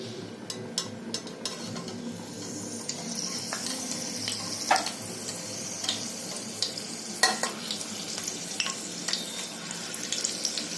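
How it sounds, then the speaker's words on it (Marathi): Four chillies frying in hot oil give a steady sizzle and crackle for pakoda-style cooking, with occasional sharp pops and spatters rising above the continuous hiss; no one speaks. "चार मिरच्या मी आता तेलात घालते"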